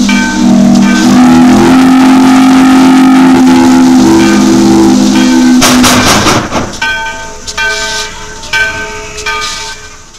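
A ghost train ride pulls out with a loud, sustained whistle tone, then a sudden hissing, rumbling burst and shorter whistle toots as it moves off, with no voices.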